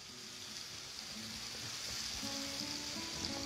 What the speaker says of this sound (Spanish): Esto lo sofreímos bien para que esté bien, bien doradito, que suelte todos los sabores en la cucharada que pusimos de margarina